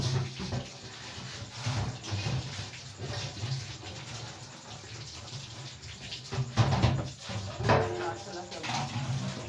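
Tap water runs and splashes steadily while a large metal dough tray (parat) is washed in a home kitchen, with clatter and knocks of the tray and a voice talking over it.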